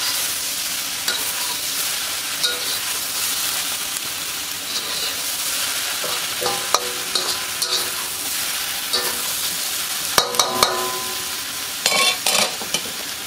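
Char siu pork with snow peas stir-fries in a hot pan, a constant sizzle broken by scattered clinks and scrapes of a utensil against the pan, close up and without talking.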